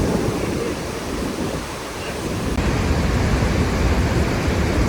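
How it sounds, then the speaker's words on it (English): A waterfall in Yellowstone's Grand Canyon gives a continuous broad rush of falling water, steady and moderately loud, with some wind noise mixed in. "And then over here is part of the falls."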